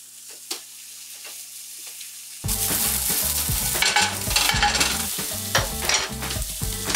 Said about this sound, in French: Écoutez l'échalote chanter